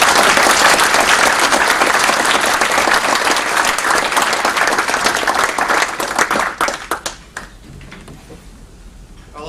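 An audience gives loud, sustained applause for Steve Rasch, class of 1980, at a school event. The clapping stays full and even for several seconds, then thins to scattered claps and fades out.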